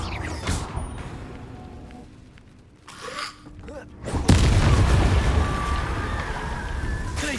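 Confringo explosive spell blast in Hogwarts Legacy, a sudden loud booming burst midway that lingers as a rumbling roar, following quieter spell effects and scattered impacts.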